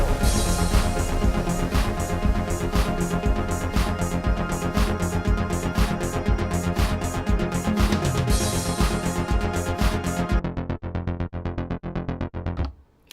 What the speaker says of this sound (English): that's the sound of the bass.